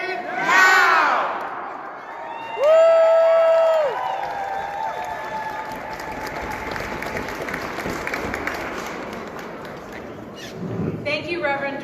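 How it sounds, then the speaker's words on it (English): Rally crowd for equal rights cheering, whooping and applauding, loud bursts of yelling and a sustained shout over steady clapping, with a voice briefly audible near the end. "Let's have another round of applause for him."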